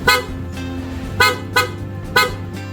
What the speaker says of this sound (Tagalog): busina for 2 minutes